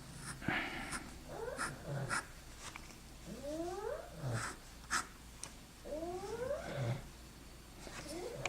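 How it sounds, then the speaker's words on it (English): A sleeping pug snores with rhythmic, snorting, wheezy breaths roughly every one to two seconds, soft and in the background with no talking. "If you can hear any strange noises in the background, that's one of my pugs sleeping."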